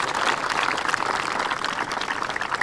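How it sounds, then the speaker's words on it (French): Campers at a holiday camp in Burkina Faso applaud loudly, giving a dense, steady wash of clapping that holds at full strength for the whole stretch with no voices on top. "On applaudit très fort"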